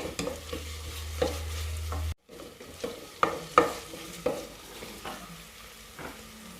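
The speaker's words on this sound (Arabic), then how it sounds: "غادي نضيف الثومه اللي قطعتها طريفات صغار، نخليوها تشحر غير شي شويه بلا ما تحرق لينا الثومه" Finely chopped garlic added to onions sautéing in a pan sizzles steadily, with several sharp stirring scrapes and clinks of a utensil against the pan, close by and no talking.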